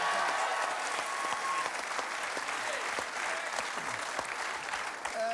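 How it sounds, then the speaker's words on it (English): Studio audience at a televised Australian football talk show applauding steadily, a dense wash of many hands clapping that holds at an even level for the whole stretch, with faint voices underneath. "Give him a big round of applause again."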